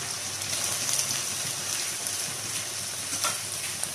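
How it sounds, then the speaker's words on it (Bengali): Chopped onions fry in a pan over a very low flame, giving a steady soft sizzle with faint crackles throughout and no voices. "এই যে এইবারে পেঁয়াজগুলো আমি এখানে দেব এবং খুব লো ফ্লেমে এটা ভাজতে হবে"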